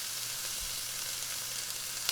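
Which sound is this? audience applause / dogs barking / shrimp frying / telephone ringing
shrimp frying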